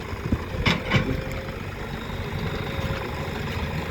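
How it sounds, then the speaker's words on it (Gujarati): Tractor engine running steadily after being started during farm field levelling work, a continuous low rumble with a couple of brief louder bursts near the start, then an even drone throughout. "હવે ફેર ટ્રેક્ટર ચાલુ થઈ ગયું"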